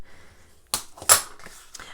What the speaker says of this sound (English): let's take our bone folder and burnish all those lines